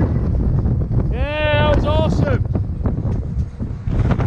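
Wind buffets the microphone outdoors at a seaside holiday park in Hunstanton, a continuous low rumble under a voice speaking briefly.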